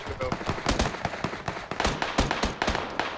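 Irregular sharp pops and cracks of gunfire from the PUBG video game during a showmatch, some single and some in quick clusters, moderately loud throughout.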